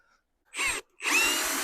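A Vitals PAU 1870 BS cordless drill-driver drives a screw in two close, loud whirring bursts, first brief, then longer after a short pause.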